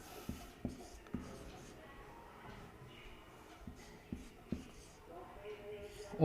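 Chalk or marker writing on a board during a Sanskrit grammar lesson, with several faint taps and scratchy strokes at uneven intervals beneath a quiet speaking voice.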